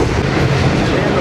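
The Shalimar Express rolls along the rails at low speed, a steady close rumble with faint rail clatter filling the whole short stretch inside the coach.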